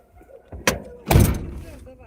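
A door is slammed shut indoors with a sharp bang, followed moments later by a heavier thud. The impacts are close and loud, and a voice is heard in the room around them.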